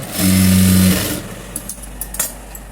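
A sewing machine runs a short burst of stitching as piping is sewn between layers of cloth, a loud steady motor whir lasting under a second, then stopping, followed by quiet handling clicks.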